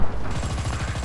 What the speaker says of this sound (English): Machine gun fire for no reason at all.